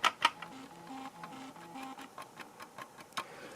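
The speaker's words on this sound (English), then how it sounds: "So let me tap the mirrors on here. I'm going to tap them like this to up to the microphone" Hard plastic mirrors on a 1:24 diecast orange Mazda RX-7 model tapped close to the microphone, a string of light clicks, with two sharper taps at the start and another near the end.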